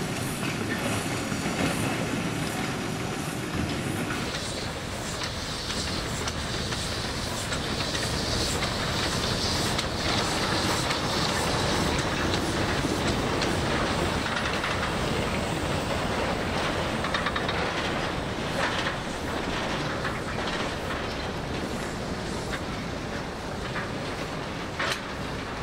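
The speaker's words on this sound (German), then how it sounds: "Die Lok fährt mit Tender und Zusatzwassertank." A locomotive hauling its tender and an extra water tank runs on a railway in Java, a steady loud rumble with clattering wheels and broadband noise throughout, no voices.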